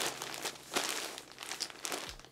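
A plastic costume package crinkles and tears close by as it is ripped open by hand, in a few quick, irregular bursts of rustling, with no one speaking.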